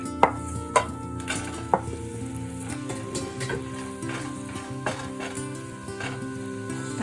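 Shrimp cooking in melted, foaming butter in a soup pot over medium heat, a low steady sizzle under sharp clicks and knocks of a utensil against the pot, repeated irregularly.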